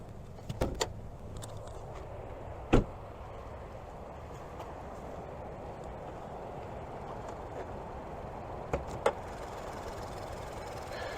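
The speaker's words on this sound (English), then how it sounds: "let's go ahead and open up the hood" The hood of a 2023 Nissan Rogue S is released and lifted, giving a few sharp mechanical clicks and a thunk spread over several seconds against a steady low background hum, with no talking.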